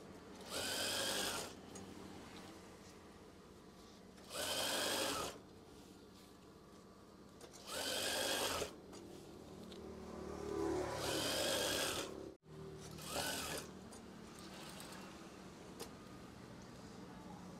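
A sewing machine stitches curtain fabric in four distinct bursts of a second or so each, separated by quieter pauses with faint handling sounds and a brief low rumble.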